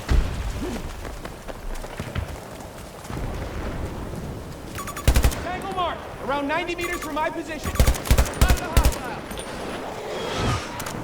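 Gunfire in the shooter game Battlefield 2042 cracks in loud bursts and quick rapid volleys over a rumbling battlefield, with someone talking between the shots.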